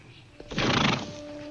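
A horse gives a short, breathy whinny close by, a burst of rough neighing that fades into a quiet hum.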